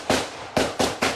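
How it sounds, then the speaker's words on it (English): Four sharp gunshots ring out during a police shooting in Charlotte, one shot then three in quick succession, loud and close with echoing tails. "armed officers run into the path of danger as gunfire erupts"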